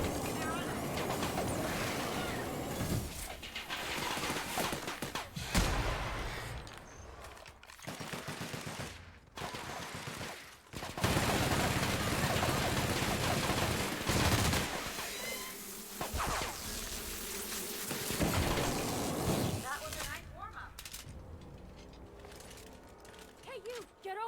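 A machine gun in The Outer Worlds fires loud, rapid volleys in repeated bursts with mechanical clatter between them. A voice is heard talking over parts of the firing.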